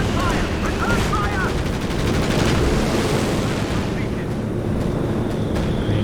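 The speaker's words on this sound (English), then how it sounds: "And here comes the artillery." Dense artillery barrage in the real-time strategy game Company of Heroes 2, a continuous roar of overlapping blasts and gunfire with a few sharp high whistles early on, staying loud and steady throughout.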